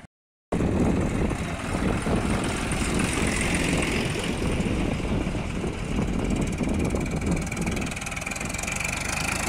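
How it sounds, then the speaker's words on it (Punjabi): A tractor towing a water tanker through a village to a drinking-water stall, its engine holding a steady, even drone throughout with no talking. "ਲਓ ਜੀ ਜਾਂਦੇ ਫਿਰ ਟਰੈਕਟਰ ਛਬੀਲ 'ਤੇ"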